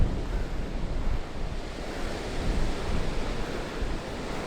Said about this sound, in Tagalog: Oh, grabe ang hangin, Diyos ko.